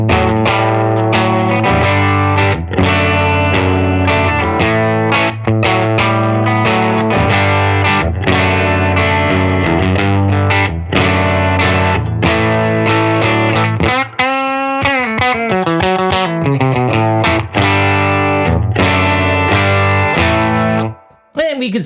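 Electric guitar plays chords and riffs through a Silktone Parallel 25-watt single-ended Class A tube amp, gritty and overdriven, loud and sustained, with a bending, wavering passage partway through.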